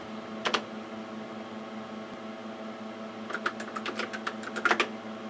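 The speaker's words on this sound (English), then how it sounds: "we're going to type example for the file name." Keys clatter on a Tandy 6000 computer keyboard while a file name is entered: a short pair of strokes, a pause over steady machine hum, then a quicker cluster of close taps.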